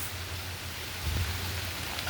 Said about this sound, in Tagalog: Medyo malakas pa ang ulan.